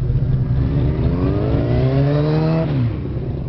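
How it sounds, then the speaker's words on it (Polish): Pontiac GTO with a Corvette 350 V8 revs up loud and close, its pitch climbing steadily before dropping back to a rumbling idle, with no voices. "bardzo ciekawy samochód bo wygląda niepozornie a ma silnik korwety 350 albo 400 koni"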